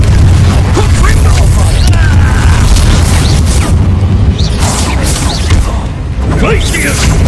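Confringo fire spells going off in the Hogwarts Legacy video game, a string of booming bursts over constant rumbling game noise, with a voice speaking amid the blasts.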